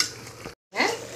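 Mushroom biryani mix with tomatoes is stirred in a pot, two short bursts of sizzling scrape separated by a brief silent gap.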